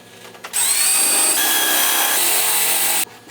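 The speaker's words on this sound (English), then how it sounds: "I flipped the base on its side and attached the bottom to the sides with some more pocket screws." A power drill drives pocket screws into wood while building a miter saw station, one loud, close, continuous whir of about two and a half seconds that drops in pitch partway through as the screw seats.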